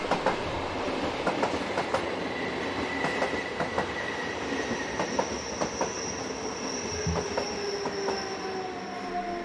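A Swiss mainline express train powered by an Re 460 locomotive passes, its wheels clicking rhythmically over rail joints with squealing wheel tones and a steady rolling roar at moderate distance.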